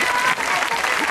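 An audience claps for an opera-style singing performance, a dense burst of applause, loud and close, with voices mixed in.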